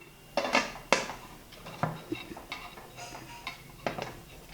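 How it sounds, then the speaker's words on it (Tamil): A metal lid goes onto an idli steamer pot, sharp clanks and scrapes of metal on metal up close, a couple of louder knocks early and then lighter clinks and rattles as it settles. "இப்போ மூடி வச்சு வேக வச்சிடலாம்."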